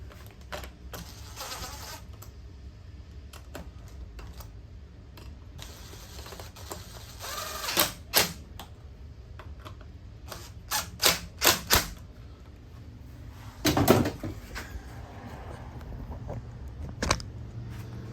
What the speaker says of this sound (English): And we'll just go ahead and screw them in here.